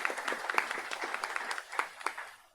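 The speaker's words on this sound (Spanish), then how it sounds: "les pido un fuerte aplauso para él también" Scattered applause from an audience at a book presentation on the right to life and abortion, with individual claps distinct and close, rising and falling over a couple of seconds.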